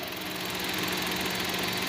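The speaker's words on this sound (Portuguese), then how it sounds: "olha só o barulho. Com o câmbio na posição P" A Chevrolet Tracker engine idles in park with the gearbox in P and the engine warm, giving a steady, close mechanical drone with a faint knocking rattle running through it.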